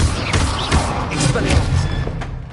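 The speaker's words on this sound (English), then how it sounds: "Expelliarmus!" An Expelliarmus spell is cast in the Hogwarts Legacy video game, giving a loud burst of thudding, booming impact with a crackling magical whoosh, close and dense, with a voice partly overlapping it.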